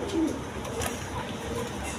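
Pigeons coo softly and continuously at a pigeon sale, with a low, steady murmuring of birds close by and no talking.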